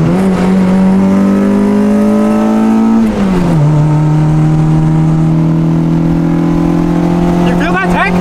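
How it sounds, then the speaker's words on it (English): A Honda Civic with a catless exhaust and long tube header accelerates hard, its engine droning loud and close, pitch climbing steadily, dipping at a gear shift, then climbing again. "It's not as loud as my other exhaust and it drones a lot less"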